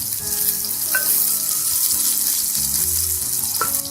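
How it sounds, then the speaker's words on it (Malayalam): Shallots and dried red chillies fry in oil for a Kerala-style dried prawn and raw mango curry, giving a steady close hiss with a few soft pops and stirring clinks. "വറ്റൽമുളക് ചേർത്ത് അതും ഒന്ന് മൂപ്പിച്ചെടുക്കാം"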